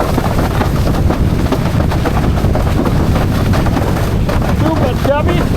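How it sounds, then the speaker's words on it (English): Strong wind roars continuously across the microphone while windsurfing on an FMX Veloce 122 freeride board, a loud, steady buffeting rush with water splashing beneath, and a voice briefly heard near the end. "bit more wind now."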